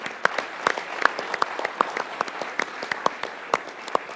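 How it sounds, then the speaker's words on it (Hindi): Scattered, fairly sparse clapping from a studio audience on an Indian cricket talk show, individual sharp hand claps standing out in an uneven rhythm, moderately quiet and without talk. "विराट कोहली के लिए एक बार तालियां होनी चाहिए।"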